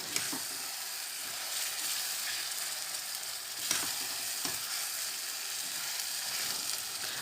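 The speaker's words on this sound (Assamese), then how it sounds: "এতিয়া মই ভাজি ৰখা পটল আৰু আলুখিনি মছলাখিনিৰ লগত মিক্স কৰিছো" Fried pointed gourd and potato with spices sizzle softly in a pan as they are stirred, with a steady hiss and occasional light scrapes.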